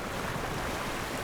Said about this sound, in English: fighting the wind and the waves and the ocean spray and the salt